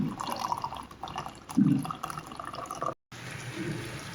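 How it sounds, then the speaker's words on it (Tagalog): Water is poured into a pot of cooking vegetables, a brief splashing pour with dripping and liquid sloshing heard up close, broken by a short gap of silence. "Ngayon, bubutangan na natin ng tubig"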